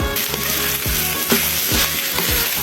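Shredded meat with coconut milk and soy sauce being stirred in a pan, loud steady sizzling broken by repeated scraping strokes of the spoon against the pan roughly every half second, with no voices.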